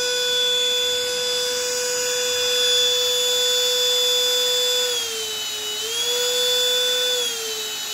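Ingco CVLI2001 20 V cordless vacuum cleaner switched on, a steady high-pitched motor whine with a brief dip and recovery in pitch midway, close and loud with no talking.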